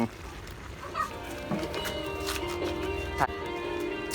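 Loud, repeated clucking calls from a waterhen close by, mixed with people talking over them.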